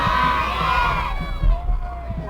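Parade crowd yelling and cheering at a passing float, a loud mix of voices and shouts including children, with the cheering fading somewhat toward the end.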